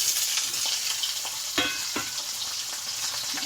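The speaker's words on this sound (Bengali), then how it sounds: "তো আমি আলু তেলে দিয়ে দেওয়া হলো" Potatoes frying in hot oil with black cumin seeds, a steady close hiss with a few sharp scrapes and stirs, no voices.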